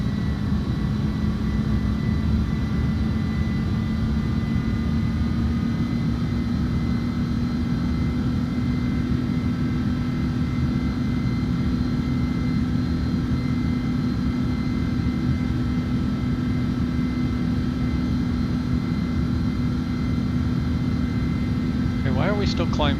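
Airbus airliner engines in Microsoft Flight Simulator 2024 hold a loud, steady jet drone with a rising whine, close and continuous, and a brief click near the end.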